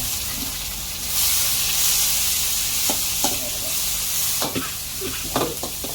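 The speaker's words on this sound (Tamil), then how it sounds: "வெட்டி வச்சுருக்கோம் ஒரு வெங்காயம் போடுறோம்" Chopped onion dropped into hot oil in a pan sets off a sudden steady hiss and sizzle, followed by a few scraping stirs and clinks toward the end, loud and close.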